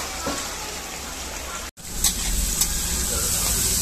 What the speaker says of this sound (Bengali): এখানে ফ্রাইড রাইসের জন্য সব কিছু ভাজা হচ্ছে।